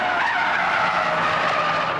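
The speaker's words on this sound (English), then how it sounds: "No, Stig's kicked the tail out. Look at the inside tyre smoking." A BMW 535d slides its tail out through a corner on a test track, the tyres skidding in a loud, sustained, wavering squeal close by, with the diesel engine droning underneath.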